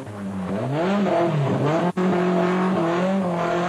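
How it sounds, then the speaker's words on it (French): Rally cars racing, a Ford Sierra Cosworth and a BMW, with a loud, close engine whine that rises and falls through gear changes and revving, briefly cut off near the middle. "En tête, la bagarre fait rage entre la Ford de Didier Auriol et la BMW de Bernard Béguin."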